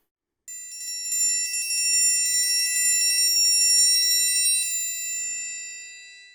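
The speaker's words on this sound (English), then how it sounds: "So when I get into faster rolls" A fast triangle roll like one used for Carnival Overture, a continuous bright metallic shimmer that swells in quickly, holds steady and loud, then gradually fades away, close and alone.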